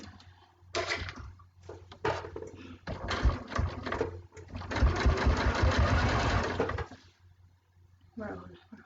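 A sewing machine stitches quilt binding in short, stop-start bursts, then in a longer steady run of rapid needle strokes. Intermittent clunks break up the machine sound, and it runs close and moderately loud.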